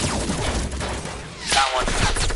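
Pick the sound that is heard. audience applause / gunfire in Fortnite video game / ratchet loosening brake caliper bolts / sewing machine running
gunfire in Fortnite video game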